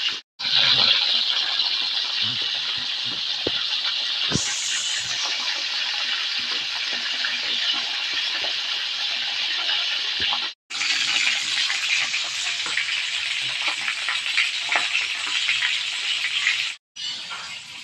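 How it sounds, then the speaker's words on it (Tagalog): Fresh tilapia fries in a pan with a loud, steady, bright hiss that continues almost throughout and breaks off briefly twice. "Habang piniprito natin ang tilapia"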